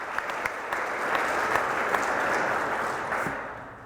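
Audience applause following a state economic announcement about Virginia's low unemployment: a steady wash of clapping from a crowd, rising quickly and holding for several seconds before tapering off.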